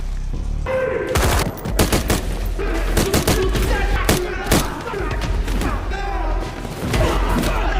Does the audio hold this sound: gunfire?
yes